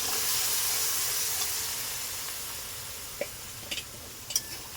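A spoon stirs tea leaves, sugar water and boiled chickpeas in an oily pan. A steady soft sizzle carries a few faint scrapes near the end, with no voices.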